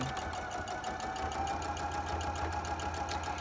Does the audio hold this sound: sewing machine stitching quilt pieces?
yes